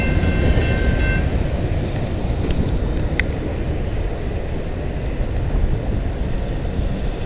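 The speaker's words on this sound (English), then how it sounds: "Train." A train rumbles past close by at Colborne Street, London, Ontario, a loud continuous roar of wheels on track with faint clanks and squeals, no voices.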